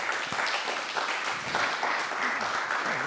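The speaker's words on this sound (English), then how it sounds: "Applause for you too." A room full of people claps steadily, a dense burst of applause with a faint voice underneath.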